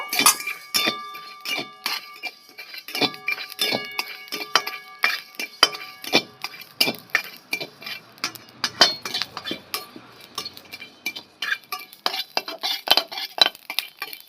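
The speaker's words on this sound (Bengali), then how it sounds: "গোটা জিরে গোটা ধনে সব ভেজে নিচ্ছি একসাথে হালকা করে ভেজে নেব" Whole cumin and coriander seeds dry-roast in a pan while a utensil stirs them, giving quiet, quick clinks and light scrapes in an irregular rhythm, with no talking.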